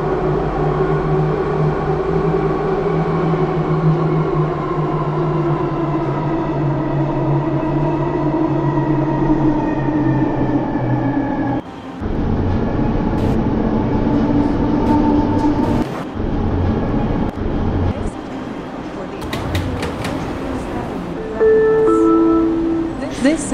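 A 1995 Bombardier ITCS Mark 1 SkyTrain car on the Expo Line heard from inside, its steady motor whine and rail rumble holding for about twelve seconds, then shifting pitch with clunks and rattles as the train slows, with brief squeals near the end.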